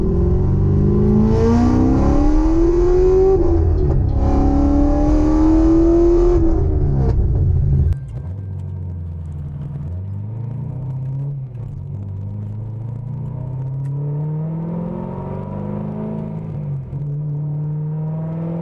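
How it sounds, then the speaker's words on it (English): A cammed, straight-piped 500whp C6 Corvette drives with a loud, lumpy V8 rumble, revving up and down through rising engine tones, heard from inside the car and steady throughout. "what it's like to drive a C6 Corvette that is cammed"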